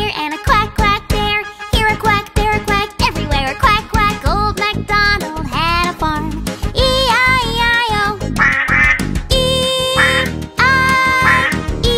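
A sung children's nursery rhyme about a farm with a duck, the singing voice imitating the duck's quacks in bouncy repeated bursts over bright, tinkling music.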